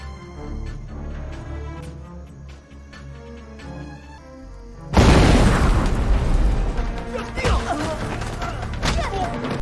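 A film explosion blasting ancient ruins: after a quieter stretch of music, a sudden loud boom erupts midway, followed by rumbling debris and crashing under dramatic scoring.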